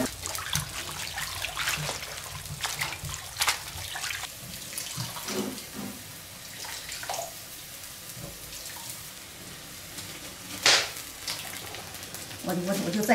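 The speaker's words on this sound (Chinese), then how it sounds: "接下来再把这个酸菜给它洗一洗" Home-pickled sauerkraut being rinsed and washed in water for a Northeastern Chinese pork stew: running, splashing water with intermittent sharper sloshes and clatters, close by, with faint voices in the background.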